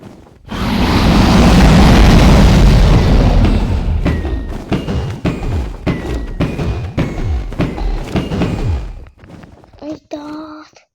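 A loud, rumbling Minecraft TNT explosion bursts out and sustains for a couple of seconds, followed by a scatter of thuds and crackling debris before a brief electronic tone.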